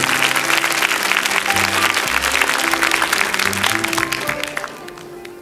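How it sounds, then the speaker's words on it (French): A studio audience applauds on a 1981 French children's TV show, a dense, steady round of clapping with music underneath that eases off slightly at the end. "Et nous allons accueillir Floriane sous les applaudissements, bien évidemment, de la foule en ligne."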